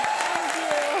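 A studio audience on an Indian TV comedy show bursts into a brief, steady round of applause, with a sustained musical tone running over the clapping.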